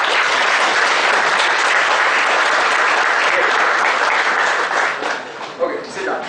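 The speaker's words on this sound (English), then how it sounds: "Just clap. Just clap." A seated audience claps together in a loud, sustained burst of applause that tapers off near the end.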